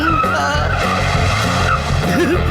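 A cartoon car skids out of control with sustained tire squeal and a roaring engine, loud and continuous, with a brief voice in the background.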